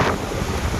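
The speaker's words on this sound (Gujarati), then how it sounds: "મસ્ત મજાનો પવન આવે છે, ઠંડો" Cool wind gusting outdoors in hilly countryside, buffeting the microphone in a loud, rumbling roar that stays close and steady throughout, with no talk.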